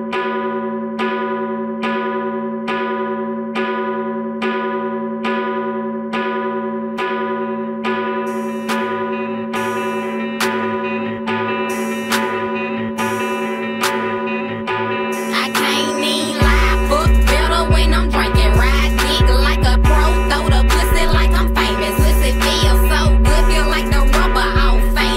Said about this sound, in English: we're going to let you listen to the entirety of this last midday chime